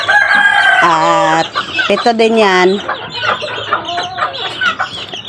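Chickens clucking around a backyard while a rooster crows loudly nearby several times, with a voice speaking briefly among them.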